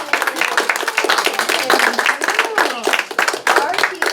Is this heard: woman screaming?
no